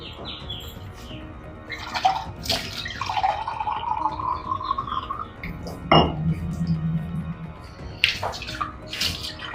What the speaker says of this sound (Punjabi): ਪਹਿਲਾਂ ਨਾ ਮੈਂ ਪਾਣੀ ਭਰਨੀ ਆ